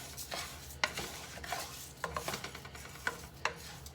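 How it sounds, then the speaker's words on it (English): Rice browning in olive oil in a pan is stirred with a utensil, producing soft scraping and rubbing strokes with occasional clinks against the pan over a low sizzle, close and fairly quiet. "we're just going to continue to let this cook and get slightly browned"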